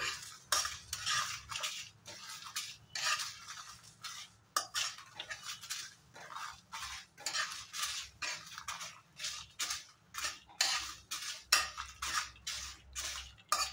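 Dry whole spices stirred in a pan over a low gas flame while preparing a mango pickle, giving a steady run of scraping, rattling strokes with a spoon against the metal, close and fairly soft, with no talking.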